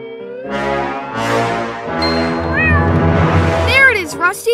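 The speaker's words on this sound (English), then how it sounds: "There's a cat over there." A cartoon cat meows several times in a row, its cries rising and falling in pitch, loud and close, mixed in with character voices.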